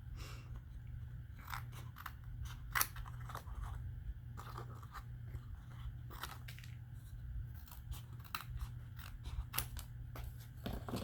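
Scissors trim paper in a series of faint, irregular snips and crunches over a steady low hum, with short pauses between the cuts.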